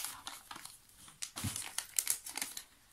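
An advent calendar packet is opened by hand, giving a series of close, irregular crinkles and crackles of plastic wrapping in quick, uneven bursts.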